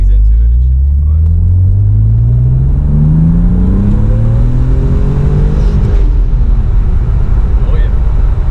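A supercharged BMW M Roadster with a repaired clutch and transmission accelerates hard, its engine rising in pitch through a gear, then climbing again after the shift, loud and close from inside the car.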